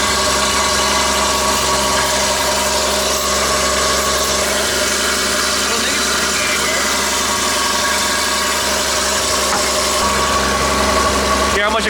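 A BMW E30 engine idles loudly and steadily with a constant metallic rattle and vibration throughout, a dense mechanical drone close to the listener.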